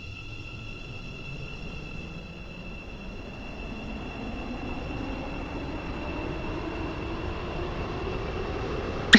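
A metro train in the Stepford County Railway game rumbles along with a steady, slowly building roar and a high sustained whine, ending in a sudden sharp burst, without voices.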